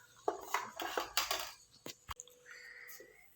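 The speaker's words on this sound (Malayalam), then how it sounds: "അപ്പോൾ ഇത് നന്നായിട്ട് ഒന്ന് മിക്സ് ചെയ്ത് യോജിപ്പിക്കാം നമുക്ക്" A drink being stirred and mixed by hand, with a string of close clinks and scrapes in uneven bursts, then a sharp knock and a quieter tail.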